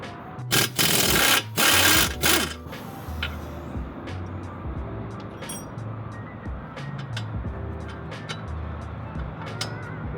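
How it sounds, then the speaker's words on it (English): Upper control arm bolts on a Scion FRS come loose with a 17mm socket and wrench, starting with a few loud mechanical bursts of tool rattle, then light clinks over a steady low hum. "we're gonna remove the upper control arm. We're gonna be using a 17mm socket and a 17mm wrench"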